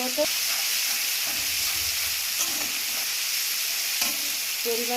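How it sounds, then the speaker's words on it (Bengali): Ginger garlic paste hits hot oil with browned onion, giving a steady, close sizzle and hiss throughout, broken by a few soft stirring scrapes and clinks. "এবারে আমি এটি 1 চামচ আদা রসুন দিচ্ছি বাটা।"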